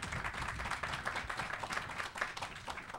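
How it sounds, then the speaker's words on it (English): A dense, continuous round of clapping comes from an audience at a Save-A-Lot grand opening in the Lafayette Square area, close and steady for the whole stretch with no voices over it. "So let's give all of them a round of applause."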